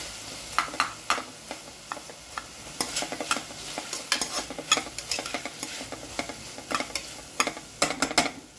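A spoon stirs peas into masala khichdi in a sizzling pan, making repeated close scrapes and clinks in a quick, irregular rhythm over a steady frying hiss.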